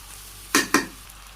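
Bay leaf, cinnamon, cloves and black pepper fry in hot oil, with two quick close scraping stirs of a spoon in the pan over a quiet sizzle.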